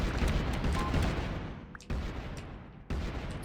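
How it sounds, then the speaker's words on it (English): Grenades go off in a video game, a rumbling blast rolling out at the start followed by two sharper booms about a second apart, loud against a dull background. "he seems to be throwing grenades a ton"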